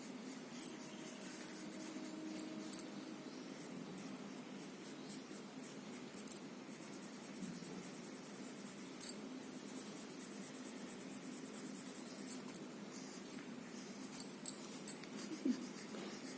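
A pen drawing a woolen cap on paper, with soft scratchy strokes and occasional brief taps, close and quiet against a faint background hiss, no talking.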